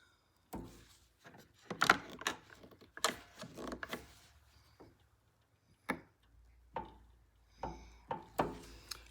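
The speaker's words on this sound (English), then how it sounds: "keep punching the little spots where the dots go" A metal center punch marks spots for dot inlays on a guitar neck clamped to a fence: sharp, isolated taps and knocks at irregular intervals, close and fairly quiet, with handling clatter between strikes.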